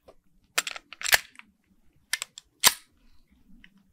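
A handgun loaded with cheap ammunition fires at an outdoor shooting range, four sharp reports in two spaced pairs, each with a short crack and quick decay.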